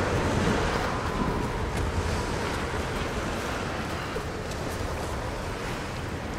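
In the video game Tomb Raider, strong wind blows without a break. It is a loud, broad rushing roar that swells and eases slightly, with no voices.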